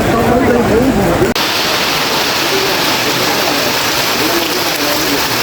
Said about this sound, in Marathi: आणि हा इकडे धबधबा आहे.